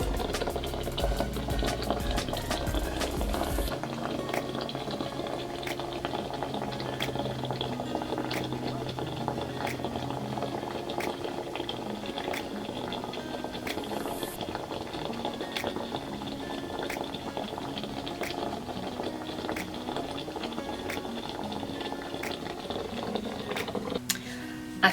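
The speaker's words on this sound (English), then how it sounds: "You just basically fill up your water in here and just steam the face." A facial steamer boils its water with a steady, low bubbling hiss and faint ticking drips that run on evenly, with no talking.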